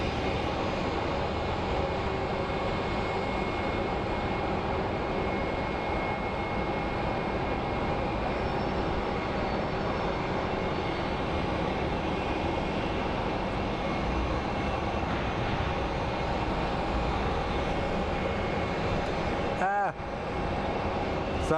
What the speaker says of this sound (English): We actually get to see a 757.